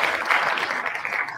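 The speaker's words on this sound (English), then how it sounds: "Another round of applause." A short, steady round of applause from a small group, continuous clapping at even loudness with no talk over it.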